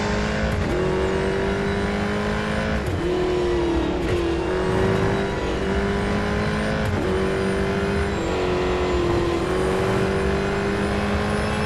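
A Ford Falcon FG X Supercars race car in Real Racing 3 laps the Nürburgring, its engine droning and revving continuously, pitch climbing and dropping with repeated gear shifts, with occasional brief tire squeals.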